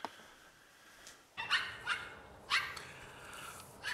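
Several dogs bark in the background, three or four distinct barks spaced about a second apart, moderately distant over a low, steady ambient hiss.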